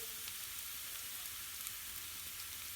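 Garlic frying lightly in a pan, giving a soft, steady, faint sizzle with a fine crackle throughout.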